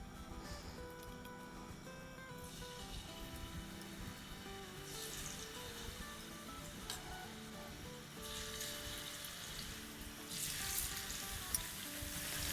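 Fish pieces dropped into hot oil in a pan, frying with a soft, continuous sizzle that swells in bursts and grows louder toward the end, quiet overall with no talking.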